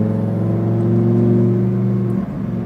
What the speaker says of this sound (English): squeeze the throttle now, accelerate to the right side